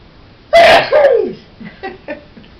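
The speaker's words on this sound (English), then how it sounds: "I'm going to sneeze." A single loud sneeze bursts out, followed by a few quieter sniffs and short breathy sounds.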